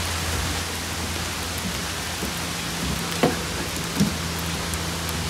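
Rain falling through green trees during a thunderstorm, a steady dense patter with a couple of louder nearby drops, no voices.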